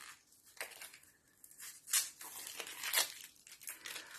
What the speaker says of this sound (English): Again, using the bridge holes, I'm going to peel the onion